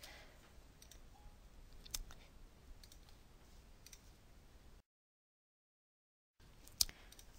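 Computer mouse clicks while songs are deleted in iTunes, faint scattered ticks over a low background hum, with one sharper click near the start and another after a brief dropout.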